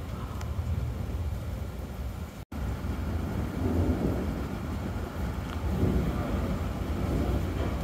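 A continuous, fairly loud wash of steady rain with low rumbling thunder rolling underneath, and no talking.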